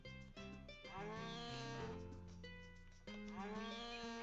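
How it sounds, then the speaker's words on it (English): Several cows moo in overlapping, drawn-out calls inside the Harvest Moon farming game, their voices layered over a continuous game soundtrack and crowding close together with no one speaking. "Too much mooing."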